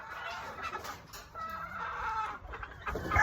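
Fighting cock roosters bred from winning bloodlines cluck and call close by, with drawn-out crow-like notes and short clucks overlapping against outdoor farm background noise; no talking.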